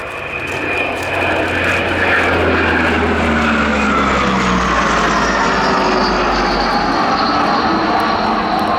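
A Dassault Atlantique ATL2 maritime patrol aircraft of the French Navy flies past at an air show, its loud propeller and engine drone rising and then sweeping steadily past, with a falling pitch as it goes by.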